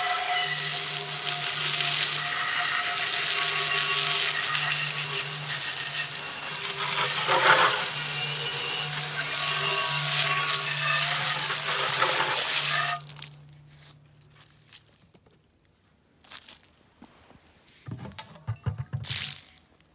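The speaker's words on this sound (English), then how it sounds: "I'm going to hit it with some water" Water sprayed onto a cast iron pan after electrolytic tank cleaning, a loud steady hiss and splash for about thirteen seconds that cuts off abruptly, followed by a few quieter clattering handling sounds.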